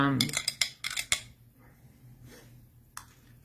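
A metal spoon clinks against a container while stirring a laundry strip dissolving in water, a quick cluster of sharp taps followed by a quieter stretch and one last clink.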